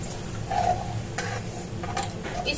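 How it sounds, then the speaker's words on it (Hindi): Coriander powder and red chili fry gently over low flame in a pan, giving a soft, steady sizzle with occasional stirring scrapes and light clinks of a spoon, close up and without talk. "इसको अच्छे से भून लेंगे मसाले को।"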